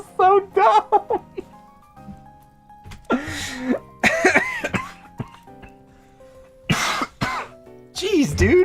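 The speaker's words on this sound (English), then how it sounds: "I can't laugh without coughing." A man coughing repeatedly while laughing after a recent respiratory illness, close and loud, with bursts of throaty coughs and laughter mixed with speech.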